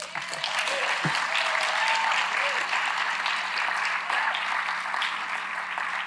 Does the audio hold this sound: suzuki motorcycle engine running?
no